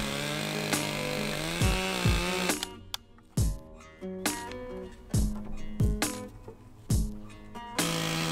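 A chainsaw cuts fallen tree wood for a bridge build, its engine droning steadily and then revving in a series of sharp bursts with idle gaps between the cuts, loud and close with no voices.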